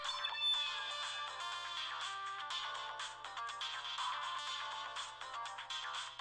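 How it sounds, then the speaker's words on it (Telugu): A mobile phone ringtone plays continuously, a bright melodic electronic tune repeating without pause, clear and prominent with no voices over it. "మీ ఫోన్ రింగ్ అవుతుంది."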